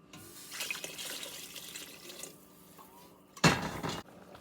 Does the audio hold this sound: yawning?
no